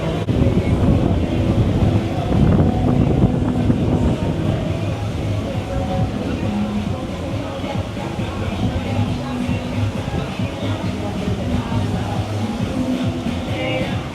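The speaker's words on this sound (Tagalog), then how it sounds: "Grabe oh, ang hangin." Strong wind buffets the microphone on a Boracay beach during a stormy season, a steady loud roar with gusty rumble throughout and people talking underneath.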